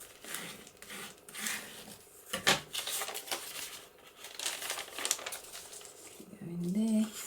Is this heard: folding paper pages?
yes